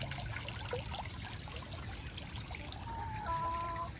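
Water runs from a line raised on a shepherd's hook and pours into the motor area of a koi pond filter in Minnesota, a soft steady trickle under a low background hum, fairly faint.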